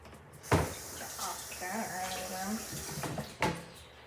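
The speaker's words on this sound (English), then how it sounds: "Let me rinse my hands off real quick." Water from a kitchen tap runs softly while hands are rinsed, a low steady splash with a couple of sharper knocks near the start and end.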